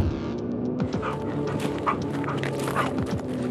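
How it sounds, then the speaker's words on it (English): A police dog barks repeatedly in short, close, throbbing bursts during a roadside vehicle stop, with no talking over it. "His canine unit caught wind of a substance and then began barking"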